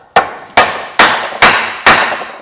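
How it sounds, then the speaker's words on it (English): A hammer strikes a Torx bit to drive it into a stuck bolt, five loud, sharp metallic blows at a steady, even pace, each ringing briefly before the next. "try a Torx bit, because it usually hammers its way in"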